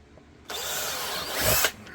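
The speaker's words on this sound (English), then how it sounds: "I drill a slightly smaller pilot hole" A power drill bores a slightly smaller pilot hole in a holster for an HK VP9 Match pistol with an X300U light, a close, loud, steady whir lasting just over a second that ends abruptly.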